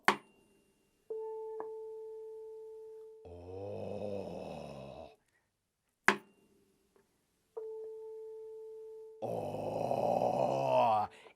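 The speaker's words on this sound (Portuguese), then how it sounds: "Esse é o som da nota Lá natural" A tuning fork sounding A 440 Hz is struck twice, each time giving a clear, steady pure tone held for a couple of seconds, followed by a person's low groaning voice.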